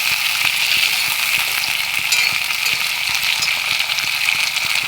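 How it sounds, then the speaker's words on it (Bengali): Onion and mixed vegetables frying in oil in a pan give a steady, close sizzle with light scraping stirs ticking through it, continuous throughout and without talk. "আর পেঁয়াজ দিয়ে দিয়েছি দিয়ে দিয়েছি সবজি ভালো করে ভেজে নেব"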